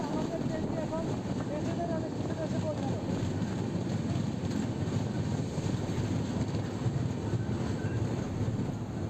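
The Tamralipta Express rolls out of platform four at Mecheda station, a steady rumbling train drone with wind buffeting the microphone, while someone speaks over the noise.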